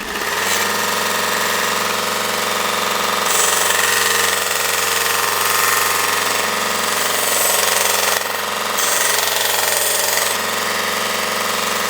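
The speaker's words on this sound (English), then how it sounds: "Wait a minute, we got a belt sander." A small mini belt sander grinds away rough edges on a workpiece, giving a steady, loud mechanical drone with a motor hum that holds for the whole stretch. The pitch shifts slightly as pressure changes, and no one speaks over it.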